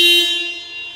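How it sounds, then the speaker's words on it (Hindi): A single brief horn blast from a Tata Altroz XE+ triggered by its key fob, loud and close, fading slightly as it ends. "गाड़ी आपकी हॉर्न देने लगी।"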